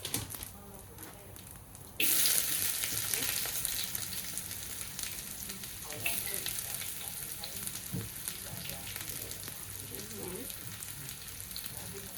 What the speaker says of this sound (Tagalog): ilagay muna natin yung sibuyas